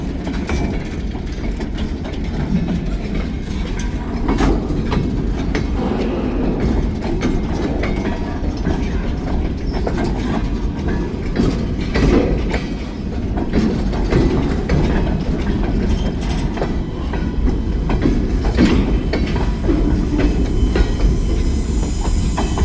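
Freight train boxcars rolling steadily past at close range, a continuous loud rumble of wheels on rail with scattered clicks and clanks throughout.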